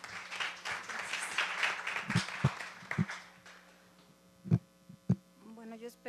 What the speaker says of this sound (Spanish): Les pido que la recibamos con un aplauso